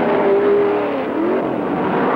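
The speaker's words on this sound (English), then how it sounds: "that Porsche, even though he's back quite a distance now, is still well within the range of getting a good tow from the Ford going down the Mulsanne straight" Race cars roar down the Mulsanne straight at the 1969 Le Mans, a Porsche trailing a Ford, loud engine whine with a pitch sweep as one passes, over a steady rushing din.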